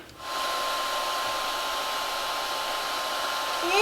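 A heat gun or blower roars steadily up close while warming old graphics on a Yamaha PW50 dirt bike, a constant airy whoosh with a faint whine that starts abruptly and runs without pause.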